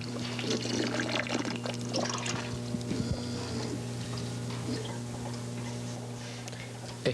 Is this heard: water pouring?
yes